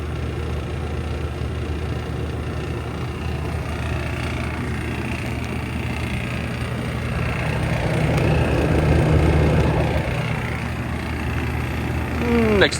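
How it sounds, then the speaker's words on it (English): A car air conditioner compressor runs with a steady mid-level mechanical drone and engine rumble, swelling slightly toward the end, with a voice talking faintly over it. "The compressor started and it's running."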